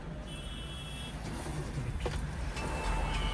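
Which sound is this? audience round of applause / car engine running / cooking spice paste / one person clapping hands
car engine running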